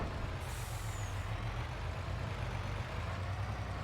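A loud red truck in Farming Simulator 22 rumbles steadily with a heavy low engine drone, and a brief hiss like an air brake sounds near the start.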